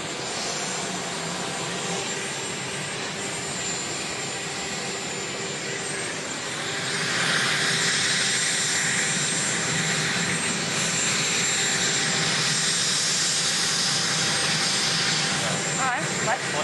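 Helicopter engine running near a departing president, a loud steady whine and roar that swells slightly partway through and continues throughout, with speech mixed in.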